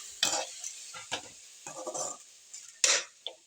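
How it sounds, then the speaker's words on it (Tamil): Ridge gourd being sautéed in a pan for a chutney, heard as a few short bursts of stirring and scraping with a light sizzle between them, close and fairly quiet. "நல்லா பீக்கங்காய் வந்து சின்னதாக போகிற அளவுக்கு சுருங்கி போகிற அளவுக்கு நல்லா வதக்கணும்"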